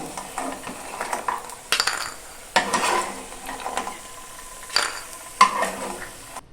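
Lentil dumplings (bori) stirred and lifted from hot oil in a pan, with scraping utensil strokes and clinks over a steady frying sizzle, close and moderately loud, no voices.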